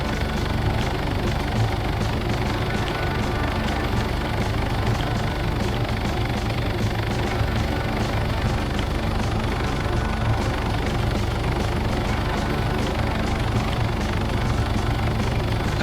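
A helicopter in the video game Screaming Dayz is being lined up to land at IGOR's Used Aircraft, giving a loud, continuous engine and rotor drone that stays steady throughout with no talking over it.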